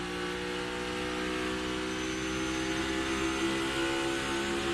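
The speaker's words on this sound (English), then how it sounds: "Watch the RPMs when he does downshift, how immediately it goes up." A NASCAR stock car engine drones loudly and steadily at high RPM, a dense harmonic whine that holds without a clear break, heard from on board during a 2022 Ally 400 race.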